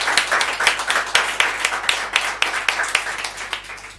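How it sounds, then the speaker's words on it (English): Conference audience at a small tech meetup claps, a brisk, crackling round of individual hand claps from a modest crowd, close and fairly loud, tapering off after four seconds. "One more round of applause for Chaz and everyone who took the back."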